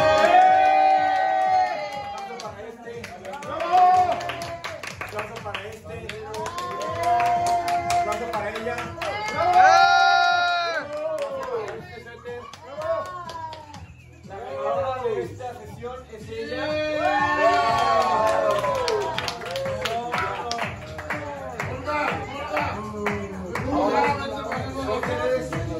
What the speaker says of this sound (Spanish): Aplauso para el más ridículo.